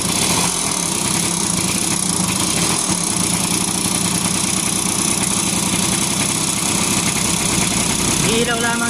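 An RS 100 motorcycle engine runs steadily at idle close by, a loud continuous rumble throughout, with a person talking over it.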